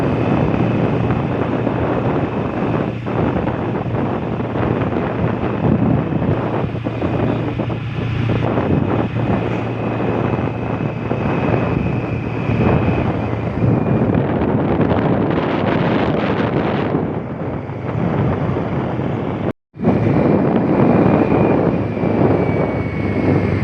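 A motorbike carries its rider on a roughly 15 km trip to a farm, with a steady roar of wind rush and engine drone the whole way and a brief dropout near the end.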